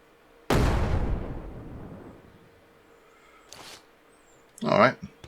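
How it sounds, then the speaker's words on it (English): A grenade goes off in the zombie game Surroundead with one sharp, close boom that decays over about two seconds. Two brief, quieter bursts follow later, and a voice speaks near the end. "Let's get a nade on the bar."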